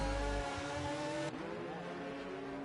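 Race car engine in a Formula racing video game at the Abu Dhabi Grand Prix, a sustained high revving drone that shifts and drops in pitch midway as the car spins out, loud and continuous with no talk.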